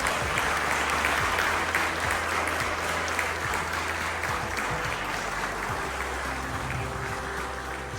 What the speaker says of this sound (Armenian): Եկեք խրախուսենք եւ ծափահարենք բոլոր աշակերտների համար։